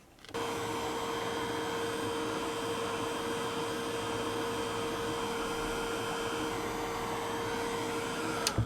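A heat tool drying ink on an altered box blows in a steady, even whir that starts abruptly and holds at constant strength with no talking.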